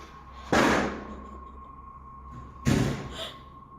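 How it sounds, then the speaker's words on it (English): Two heavy door slams boom from another room in a dark, tense house, each a sharp loud thud with a short decaying rumble, spaced about two seconds apart over a faint steady hum. "the door from the other room has slammed shut again"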